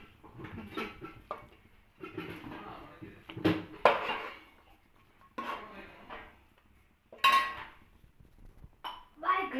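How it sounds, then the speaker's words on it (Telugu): Mixed greens curry scooped from a pot into a serving bowl in a home kitchen, heard as scattered clinks and scrapes of a metal utensil against cookware between quiet gaps, with someone speaking in between. "కలుపుకున్న తర్వాత ఈ సర్వింగ్ బౌల్లో తీసుకోవాలి."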